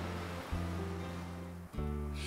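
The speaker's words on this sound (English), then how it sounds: "cause very high waves and rough seas" Waves and rough seas from a hurricane roll and crash in a continuous loud roar under a low tonal hum, with a brief dip before the surge resumes.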